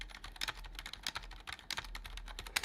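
Password being typed on a computer keyboard, a steady run of quick, light key clicks at close range with an irregular rhythm and no talking.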